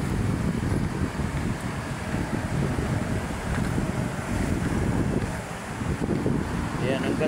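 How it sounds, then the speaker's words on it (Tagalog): Wind gusts steadily outdoors by Manila Bay, buffeting the microphone with a loud, continuous low rumble that swells and eases throughout, without any clear talking. "Yan, ang ganda ng ating hangin"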